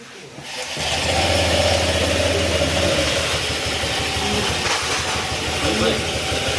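A Honda Click 150 motorcycle engine with a ticking fault starts up and settles into a steady, chugging idle, close and loud, running continuously with a slight rattling pulse.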